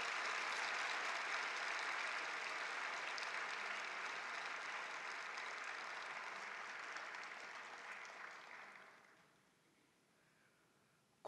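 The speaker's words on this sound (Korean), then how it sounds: "우리 박수 한번 더 쳐주세요." A church congregation gives sustained applause for a children's group that came to sing, a dense steady clapping that fades out toward the end, leaving quiet room tone.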